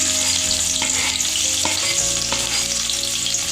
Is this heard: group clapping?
no